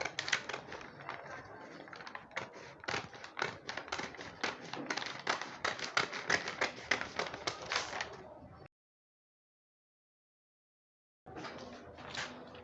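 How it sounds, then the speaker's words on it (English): Scissors cutting through fabric for a cowl neckline top, a rapid run of crisp snipping and tapping strokes for about eight seconds, then a pause before the cutting resumes briefly. "So I'm cutting the back shoulder slope first. Then you're going to cut it like this."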